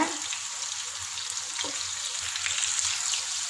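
Prawns for prawn biryani frying in a pan, a steady close sizzle and crackle of hot oil throughout, with a light stirring clink partway.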